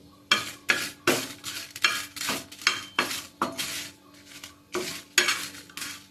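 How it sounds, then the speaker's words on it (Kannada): Chilies frying in a spoonful of hot oil for a Tulunadu-style mushroom curry, heard as a series of sharp metal spoon-and-pan clanks and stirring bursts with a light sizzle between, close and rhythmic. "ಎಣ್ಣೆ ಬಿಸಿ ಆದಮೇಲೆ ಮೆಣಸು ಫ್ರೈ ಆಗುವಾಗಲೇ"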